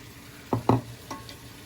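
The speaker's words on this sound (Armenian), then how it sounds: "սոխը շատ առատ ենք վերցնում, որպեսզի սոուսը համեղ լինի և տապակում ենք" Onions and carrots frying in a pan for a chicken sauce, heard as a few soft scraping stirs and knocks against the pan, quiet and close, with no talking.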